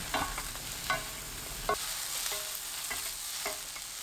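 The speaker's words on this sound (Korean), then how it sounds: "4분 볶아주세요." Eggplant stir-fries over high heat in olive oil and perilla oil with garlic, a steady close sizzle broken by a few sharp clicks and scrapes of a utensil against the pan.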